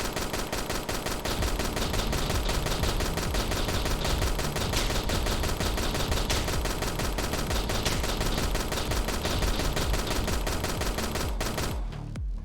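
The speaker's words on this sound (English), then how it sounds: "the stationary turrets would be these guys, where they shoot 3 in one direction" Stationary turrets in a video game fire a dense, continuous barrage of rapid gunshots, loud and close, running without pause for about eleven seconds before cutting off abruptly.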